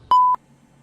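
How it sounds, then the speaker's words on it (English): A single clean electronic answering machine beep, about a quarter second long, steady pitched tone followed by near silence. "Leave your message after the beep."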